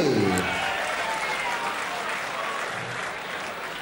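A player's wife applauds at a BDO World Darts Championship 2015 preliminary match, her steady clapping blending with a soft crowd wash while a commentator talks over it.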